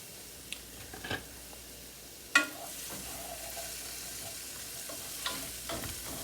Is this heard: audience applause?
no